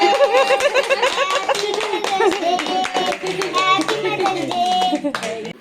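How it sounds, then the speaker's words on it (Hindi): Family members clapping at a Mother's Day cake cutting at home, a close, brisk run of handclaps mixed with children's voices, chatter and laughter throughout. "चलो ताली बजा दो"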